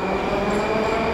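Moscow Metro Circle Line train pulling out of Prospekt Mira station, a loud steady rumble of the carriage with constant wheel and motor noise close by.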